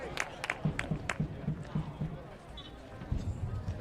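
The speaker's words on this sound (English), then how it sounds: "The Chatham faithful clapping on" Chatham Anglers home fans at a Cape Cod League baseball game clap in a steady rhythm, a run of evenly spaced claps over crowd murmur and a commentator's voice, fairly distant and moderate in level.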